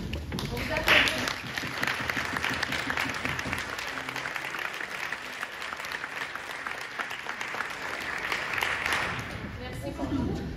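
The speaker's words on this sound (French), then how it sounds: "On vous applaudit." A municipal democracy gathering breaks into applause as people stand, and the dense, continuous clapping keeps going at an even level for about ten seconds.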